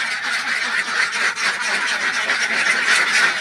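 A flock of laying ducks in a semi-free-range pen on a 200-bird egg farm quacks continuously, a dense overlapping chorus of nasal calls close by with no pauses.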